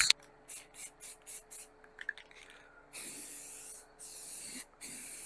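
Spray-can tack coat adhesive hisses out in a series of short, evenly spaced bursts, then in longer continuous sprays with brief pauses, close and fairly loud, applied for a VW Beetle trunk seal channel.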